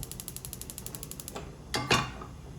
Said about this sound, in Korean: 자 이제 프라이팬에 불 켜주시고